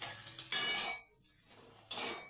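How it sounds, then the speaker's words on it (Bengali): Potatoes and beans stirred and fried in a pan: repeated scraping and clattering of a utensil against the pan in two bursts, with a soft frying hiss between them. "এরপর আলু এবং বিনসগুলোকে খুব ভালোভাবে নেড়ে চেড়ে আমি ভেজে নেব।"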